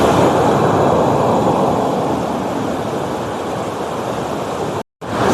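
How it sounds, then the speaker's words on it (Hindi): The Pinder river at Tharali runs in flood far above the danger mark, a loud, unbroken roar of rushing water that fills the whole stretch, with a brief dropout near the end. "नदी का जलस्तर काफ़ी ज़्यादा खतरे के निशान से ऊपर बह रहा है अभी फ़िलहाल।"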